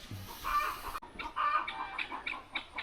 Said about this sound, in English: I apologize for the chickens and the guineas. They're right next to the coop.